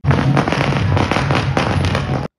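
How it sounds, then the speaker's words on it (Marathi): Firecrackers burst in a rapid, dense string during an election campaign celebration, loud and close, with crackling pops running continuously before stopping abruptly. "इथे आल्यावर पाहतो तर काय फटाके फोडणं चालू होते"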